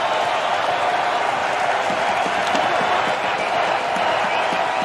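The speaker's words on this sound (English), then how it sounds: "Listen to this crowd." Loud, steady roar of a football stadium crowd cheering at a Detroit Lions at Chicago Bears NFL game, a dense continuous wall of noise with scattered whoops and no break across the whole stretch.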